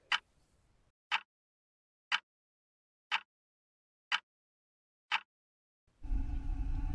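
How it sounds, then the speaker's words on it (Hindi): A clock ticks in a silent room, five sharp, evenly spaced ticks about a second apart, close and clear, before a loud rush of noise swells in at the end. "खामोशी इस कदर थी कि सलमान को घड़ी के चलने की आवाज आने लगी।"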